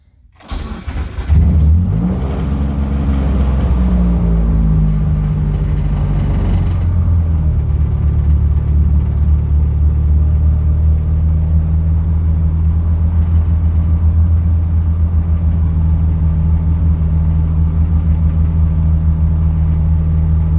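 A Mitsubishi Eclipse 3G engine on an OEM fuel pump, OEM injectors and stock fuel pressure regulator cranks, catches and revs briefly, then settles into a loud, steady idle close by.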